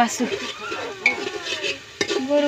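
Beef sizzling in a hot pan while being stirred, a close, loud frying hiss broken by sharp scrapes of a utensil against the metal.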